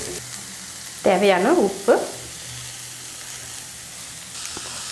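Beetroot and carrots fry with sautéed onions in a pan, a faint, steady sizzle heard under a brief spoken remark.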